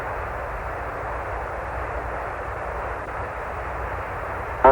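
Steady broadband roar of the Apollo 11 lunar module Eagle's descent engine firing during the final approach to the Moon's surface, continuous and even throughout with no voices, ending in a brief louder burst.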